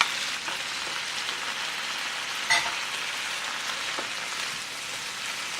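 Cabbage, carrots, broccoli and bell pepper stir frying Jamaican style in a hot pan, a steady close hiss and sizzle with one brief clatter of stirring midway, no talking.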